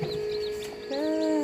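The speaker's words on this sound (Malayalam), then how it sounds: "നമ്മളെ കോഴിക്കുട്ടികളൊക്കെ വിരിഞ്ഞേ." Newly hatched baby chicks peep in high, thin chirps close by, with short calls overlapping steadily and no talk.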